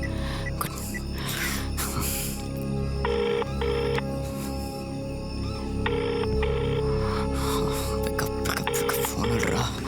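A telephone rings with an incoming call in a scene from a Tamil romantic horror thriller film, two-part electronic ring bursts repeating at a steady interval over a dense, continuous background of music and ambience.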